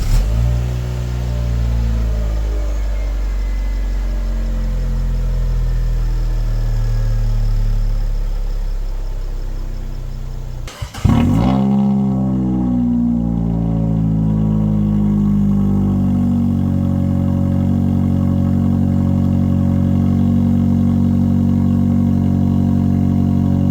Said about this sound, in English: I'm gonna get a little cold start with the previous exhaust, the stock one